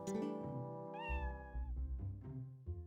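A cat in the video game Zelda: Twilight Princess HD gives a few clear, close meows with drawn-out, wavering cries over a soft, tonal game backdrop.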